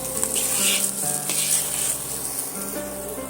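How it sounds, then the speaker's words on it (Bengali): Semolina for halwa is stirred and fried in ghee in a wok, producing a lively crackling sizzle with bursts of scraping as the spatula moves, fairly close and loud, with no talking. "এইভাবে করে আমি সুজিটা নাড়তে থাকবো নাড়তে নাড়তে দেখবেন এক সময় কড়া থেকে একদম ছেড়ে দেবে"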